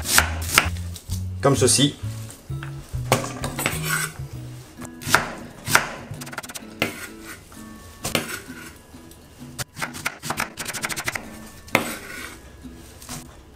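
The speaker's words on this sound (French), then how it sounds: "Là, j'ai coupé mes oignons en deux et on va les émincer." Onions halved and sliced with a knife on a cutting board, not too finely, for French onion soup: steady rapid chopping taps close by, with a light metallic clink and a brief spoken word.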